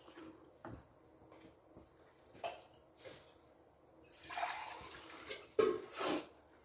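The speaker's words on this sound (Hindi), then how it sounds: "और इसके अंदर मैं आधा गिलास और पानी डाल देने लगी।" Water is poured in short bursts into a pot of drained parboiled rice for chicken and pea pulao, with splashes, drips and clinks of a glass against the pot, fairly quiet and close, without speech.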